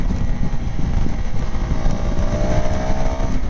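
A 2025 KTM 390 Adventure motorcycle's engine and exhaust hum steadily while riding, partly buried under heavy wind rush on the microphone.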